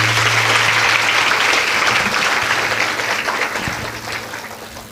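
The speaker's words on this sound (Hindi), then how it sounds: "तालियों से स्वागत" Audience applause welcoming someone at a Shrimad Devi Bhagwat Katha religious discourse, a steady dense clapping from a crowd that stays loud throughout and tapers only slightly toward the end.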